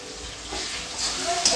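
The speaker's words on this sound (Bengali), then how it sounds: "পটল ভাজা, বেগুন ভাজা হচ্ছে" Pointed gourd and eggplant frying in a home kitchen, a steady close sizzle with faint stirring scrapes, unbroken for the whole stretch.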